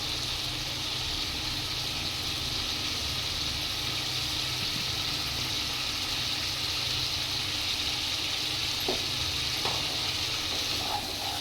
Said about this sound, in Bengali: আমি এর মধ্যে আলু আর ফুলকপিগুলো দিয়ে একটু কষিয়ে নেব।